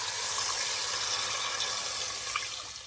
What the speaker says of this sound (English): I just go ahead and add a couple of cups of water